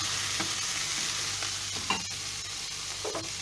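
Kofta meatballs sizzle steadily in hot oil in a pan, a constant close frying hiss with occasional small pops and light clinks, no voices.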